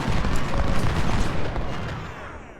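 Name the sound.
artillery and rifle fire in Ultimate General: Civil War video game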